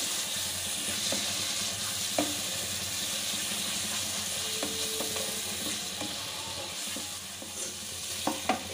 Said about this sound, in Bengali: এখানে আমি অল্প একটু জল দিয়ে দিচ্ছি, সামান্য পরিমাণে দিয়ে মশলাটা ভালো করে কষানো।